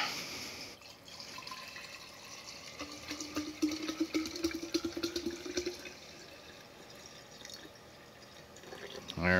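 Water pours and splashes into a one-liter container being filled, a steady close gurgling stream that rises and bubbles midway before tapering off, with no talking.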